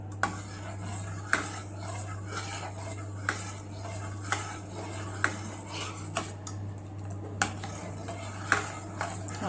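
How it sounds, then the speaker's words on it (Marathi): Thick custard paste being stirred continuously in a metal pan, a spoon knocking and scraping the pot in a regular rhythm of sharp clinks over a constant low hum. "आता हे खाली लागू नये म्हणून आपण हे कंटिन्यूअस हलवत राहायचं"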